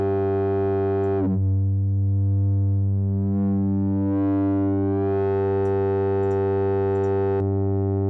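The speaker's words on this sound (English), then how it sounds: "It's gonna give it distortion, like saturation." A synthesizer tone running through a FabFilter Simplon filter and overdriven into saturated distortion: a sustained buzzy, harmonically rich drone whose filter sweeps shift the timbre mid-way, ending with a sharp tonal change.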